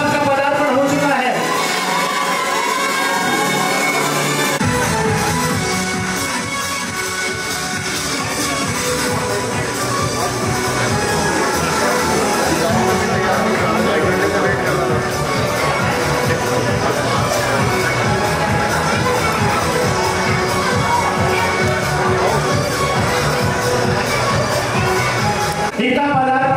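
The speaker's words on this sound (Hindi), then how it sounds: "ताली की गड़गड़ाहट से अभिनंदन करें" A crowd's sustained applause at an outdoor Hindi poetry gathering as the chief guest, a colonel, arrives, with dense clapping and cheering mixed with loud music and voices throughout.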